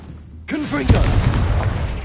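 A Confringo blasting spell from Hogwarts Legacy erupts with a sharp broadband boom, then a dense fiery rumble lingers loudly for over a second, with game voices layered over it.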